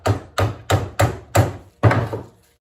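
Six sharp metallic knocks in an uneven rhythm as a screwdriver is driven under the clamp ears on the rear suspension of a 1964 MGB to bend them up, close and distinct with short silences between.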